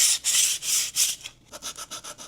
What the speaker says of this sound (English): I feel like with this sanding, I'm just scratching the bowl.